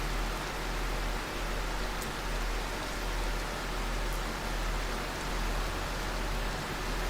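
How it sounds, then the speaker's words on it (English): Heavy rain pouring in the Prologue: Go Wayback! game, a dense, constant hiss of falling water, loud and unbroken from start to finish with no speech. "yeah, I think that's supposed to be rain."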